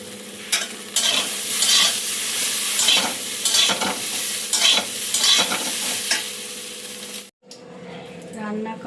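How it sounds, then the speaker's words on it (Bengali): Small ground shrimp frying in a pan, heard as a loud steady sizzle with rhythmic scraping stirs every half second or so, then a brief break and quieter frying with faint background voices. "গুঁড়ো চিংড়িটা ভাজবো"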